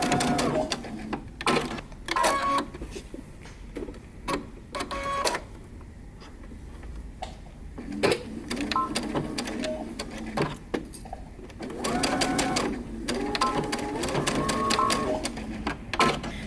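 A home sewing machine back stitches a dress side seam in repeated short bursts, motor whirring on and off with brief pauses between runs, fairly close and moderately loud, with no talk.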